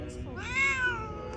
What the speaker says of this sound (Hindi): यहाँ पे भाई बिल्ली है